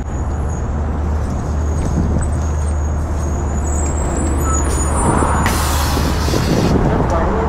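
Cars and trucks rumble along a Toronto street, a steady loud traffic drone with a sharp hiss like an air brake partway through and a voice speaking beneath it.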